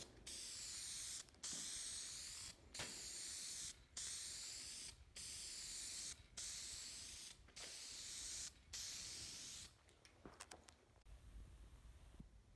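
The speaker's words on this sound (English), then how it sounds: "I'm gonna try my hand at videoing while spraying" Primer sprayed onto Chevrolet Avalanche tonneau cover panels, a steady close hiss in eight roughly one-second bursts with brief gaps between them, then a few short, choppy spurts at the end.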